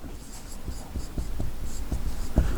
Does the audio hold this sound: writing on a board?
yes